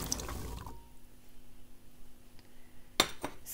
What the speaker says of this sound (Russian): Высыпаем туда порезанную морковь.